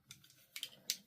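Scissors trim excess fabric from a ditty bag, giving three short crisp snips spaced apart, close and fairly faint against a quiet room.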